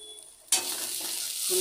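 Coriander leaves stirred in a hot cooking pan with green chillies, a sudden burst of sizzling that keeps up steadily, with a faint scrape of stirring near the end.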